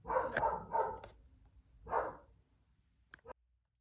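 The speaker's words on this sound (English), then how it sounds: "my dog is being very noisy" A pet dog barks indoors in a few close, sharp bursts, two quick barks followed by another after a pause, then a couple of faint clicks before silence.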